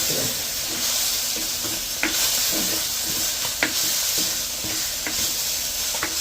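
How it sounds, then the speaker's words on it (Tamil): Okra and tomatoes with turmeric frying in a pan give a continuous loud sizzle and hiss, with occasional clicks and scrapes of stirring over roughly six seconds and no talking. "மஞ்சள் எல்லாம் போட்டு நல்லா வதக்கிட்டு நம்ம பொதிய நாடி தக்காளி பழமும் போடப்போம் வெண்டிக்காய் தக்காளி பழமும் போட்டு"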